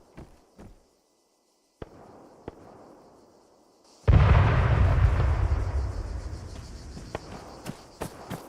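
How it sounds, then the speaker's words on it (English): Sniper fire in the military game Arma 3, sharp isolated cracks at first, then a sudden loud burst with rumbling sustain, followed by further sharp shots scattered near the end. "That's a sniper fire,"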